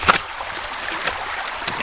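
Steady rushing of flowing water with gurgles and splashes, close and continuous throughout, with no voices.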